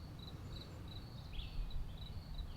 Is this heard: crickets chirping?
yes